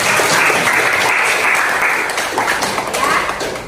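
A classroom group applauds in a steady, dense wash of clapping lasting several seconds. The clapping is loud and close throughout.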